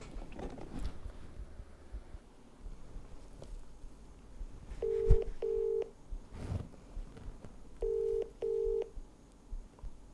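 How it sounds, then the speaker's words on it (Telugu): A phone call being placed, with a series of paired electronic ringback tones, fairly loud and close, set against low background noise and a few faint handling bumps. "సో మనము దివ్య గారికి అయితే ఇప్పుడు కాల్ చేద్దాము"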